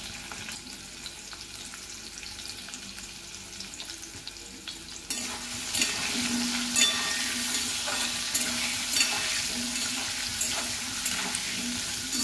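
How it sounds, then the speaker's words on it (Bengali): Potatoes with salt and turmeric fry in a pan, a soft sizzle that swells louder about halfway through and holds as a steady crackling hiss, with faint stirring clinks and no talking. "আলুগুলো দিয়ে পরিমাণ মতন নুন হলুদ দিয়ে আলুটা ভেজে নিতে হবে।"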